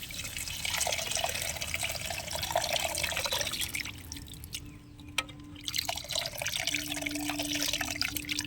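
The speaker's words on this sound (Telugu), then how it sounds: "మనకి సరిపోయేంత చింతపండు నీళ్ళు అయితే మనం ఇప్పుడైతే వేసుకోవాలండి" Tamarind water pours into a fish curry as a continuous liquid splashing and trickling that dips briefly midway, then resumes. No one speaks.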